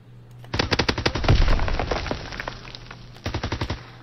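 Automatic gunfire in the video game Call of Duty WW2, rapid bursts of loud, close rattling shots, one long burst followed by a shorter one after a brief pause.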